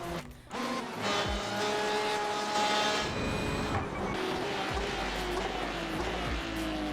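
GT race cars screaming past on the Monza circuit in the racing game iRacing, a loud sustained engine roar with shifting pitch, rising and falling as cars pass, with occasional tire noise.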